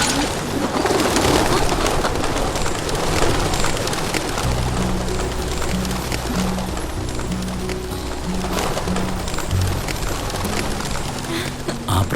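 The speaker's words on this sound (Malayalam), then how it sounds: "ആ പ്രാവുകൾ പറന്നുപോയത് കണ്ടപ്പോൾ" Several pigeons coo in repeated low, rhythmic phrases under a dense, noisy flutter that suggests a flock taking off, heard in a dubbed movie scene.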